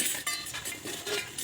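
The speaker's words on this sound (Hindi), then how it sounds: "और बाकी सब बर्तन वगैरह है।" Metal cooking utensils and dishes clink and rattle together at an outdoor campsite in quick, bright knocks that keep going steadily throughout.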